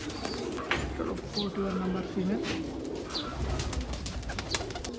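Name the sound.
pigeons cooing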